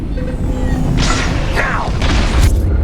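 Bombs going off during a raid in Star Wars: Squadrons, dull booms and rumbling blasts under a dense layer of engine roar and whooshing combat noise.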